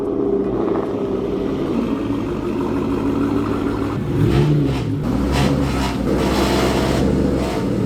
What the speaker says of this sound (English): There's like a little buzzing sound that's coming from the exhaust